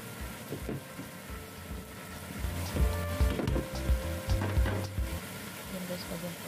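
Enoki mushrooms and red chili stir-fry in a pan with a steady close sizzle. A spatula scrapes and clacks against the metal in uneven strokes, and a voice talks faintly underneath.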